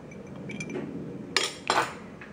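A heavy water ice cube dropped into a lab drinking glass gives two sharp glassy clinks in quick succession after a quiet stretch of light handling noise, close and clear with no voices.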